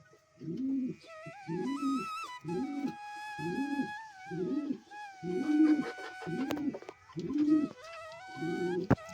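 A female crested desi pigeon coos close by in a steady repeating rhythm of about nine low throaty coos, while faint birdsong and whistling calls from other birds continue in the background.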